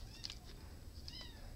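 Long-haired cat meowing softly indoors, two short high meows about a second apart over a quiet background hum.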